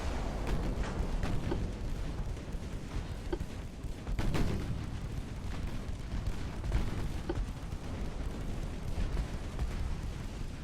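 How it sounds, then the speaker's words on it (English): Naval artillery in the Ultimate Admiral: Dreadnoughts game, pre-dreadnought warships firing, heavy booms and scattered shot reports over a continuous rumbling battle din, no talking. "Yes, you just shoot at him. Don't be worrying about anything else. You just shoot at him."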